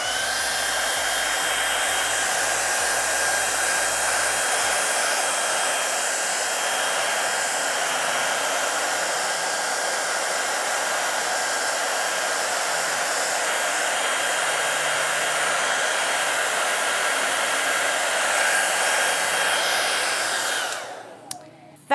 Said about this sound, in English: most important is give it a hair dry